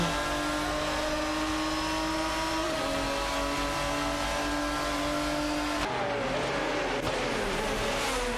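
Simulated race cars, a Ferrari 550 GTS and a Lamborghini Murcielago RGT, in a racing video game, their engines droning steadily loud with rising pitch and a sharp change partway as one pulls alongside.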